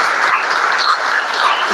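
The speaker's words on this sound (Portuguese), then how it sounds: "Eu queria que você aplaudisse a Jesus." A church congregation claps for a brief moment, a loud, dense burst of many hands with no voices heard over it.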